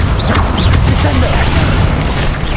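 A Descendo slam spell in Hogwarts Legacy combat, a loud close booming crash within a thick, continuous battle din of impacts and whooshes.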